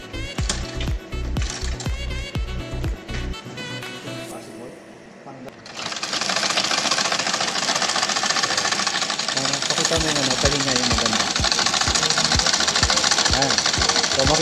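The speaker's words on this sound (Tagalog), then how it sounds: "Subukan muna kung maganda yung pagkakatahi ng ating makina." A Singer manual sewing machine stitching in quick rhythmic bursts of mechanical clatter, pausing briefly before running again in a steady, dense whir.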